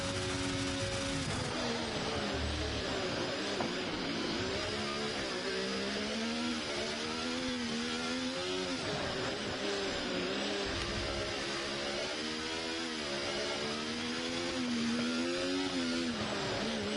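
A race car at Circuit of the Americas (COTA) accelerates hard, its engine note climbing and shifting through gears in a loud, continuous drone with no one talking.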